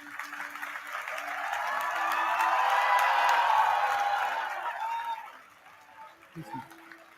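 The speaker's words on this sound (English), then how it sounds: "Big round of applause to all the MTech graduates." An audience at a university convocation applauds for MTech graduates, the clapping swelling to a full, steady round before fading out, heard from some distance in a large hall.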